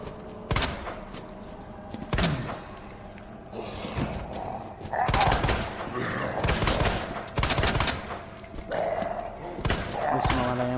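Leon's gun in the Resident Evil 2 remake firing several sharp, well-spaced shots with echoing tails, set against a low ambient backdrop.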